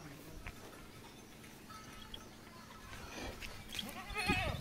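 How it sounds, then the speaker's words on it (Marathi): A goat bleats on a farm with livestock, a wavering bleat rising clearly near the end over steady rustling ambient noise. "ही बकरी हिनं दोन पिल्ले दिलेले आहे।"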